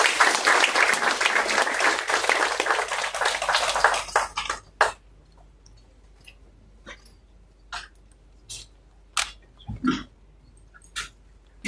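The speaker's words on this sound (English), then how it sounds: "Please welcome her with a round of applause." Audience at a live event launching the Ghana Medical Trust Fund gives a dense round of applause for about four seconds, then it fades to scattered faint claps and small sounds.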